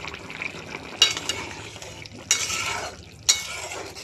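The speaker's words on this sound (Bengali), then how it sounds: "এবার ঢাকনাটা আমি খুলে নিচ্ছি, একটু নাড়াচাড়া দিয়ে দেব।" Thin pabda fish curry is stirred in a pot after the lid comes off, producing three sharp metallic clinks of the spoon against the pot over a low simmering bubble, close by and with no voices.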